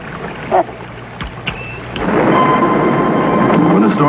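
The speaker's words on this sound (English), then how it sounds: "When the storm starts kicking up out in the wilderness, you can expect it's going to be a real humdinger." A thunderstorm rolls over open wilderness: a few scattered cracks and thumps give way to a loud, steady roar of heavy rain and rumbling thunder that fills the rest of the moment.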